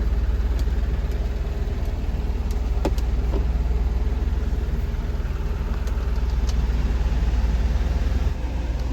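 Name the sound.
Tata Nano car engine running with AC on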